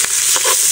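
Seasoning hisses and sizzles as it fries in a pan, in a short, loud burst with a faint stir, while dalag fish is cooked.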